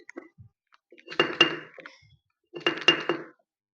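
Shallots crushed on a traditional stone grinder for prawn chutney, heard as two separate bursts of hard, gritty pounding and scraping of stone on stone, fairly close and clear, with no talking.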